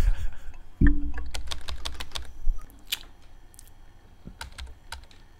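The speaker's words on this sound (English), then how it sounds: "I can actually type in my own name" Quick bursts of computer keyboard typing, a name being entered into a game, sound close and crisp after a low thump, separate keystrokes tapping out irregularly.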